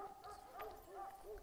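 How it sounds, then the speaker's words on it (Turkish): A Kangal dog barks and yips faintly in the distance among rocky hills, a few short calls over a quiet outdoor background. "Köpek"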